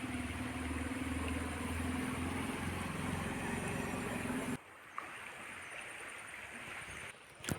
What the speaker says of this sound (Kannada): ಅಲ್ಲೇ ಬೈಕ್ ಹೋಗ್ತಾ ಇದೆ ಈಗ